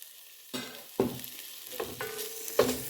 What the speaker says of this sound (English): We're going to saute the onions a little bit.